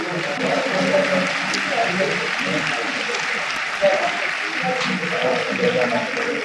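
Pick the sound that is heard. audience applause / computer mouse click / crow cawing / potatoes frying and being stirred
audience applause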